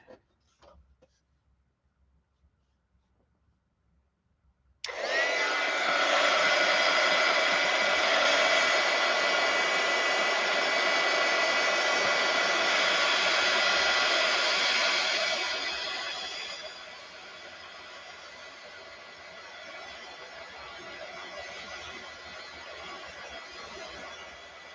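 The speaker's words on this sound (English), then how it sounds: "let's go ahead and use the heat gun" A heat gun switches on after a few seconds of quiet and blows hot air in a loud, steady roar that drops to a lower, softer setting partway through and keeps running.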